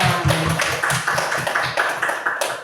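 Teachers and participants at a school discussion session applaud together, a steady patter of hand claps rising and falling in loose rhythm, moderately close and without talk.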